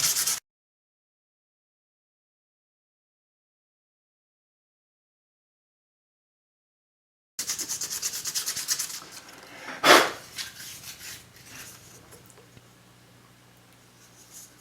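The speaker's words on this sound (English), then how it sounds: "I've got some 320 here, and I'm just going to get rid of those other heavier sanding marks" Rubbing, abrasive scratching of 320-grit sandpaper by hand on a wooden guitar bridge after a long silence, with one sharp knock midway and a lighter scrape fading out.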